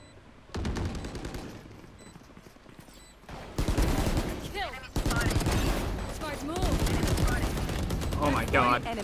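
Rapid gunfire in the video game Valorant rattles out in loud, close bursts and sustained volleys, with voices heard between the shots.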